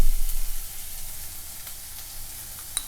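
Onions frying in a pan after a light sprinkle of salt and turmeric, a steady close sizzle that starts stronger and settles into a softer hiss, with a small click near the end and no talk.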